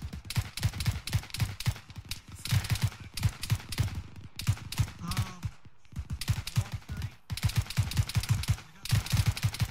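Rapid automatic gunfire in a town assault video game, long bursts of sharp shots that stop briefly and resume, loud and close, with brief voices in the gaps.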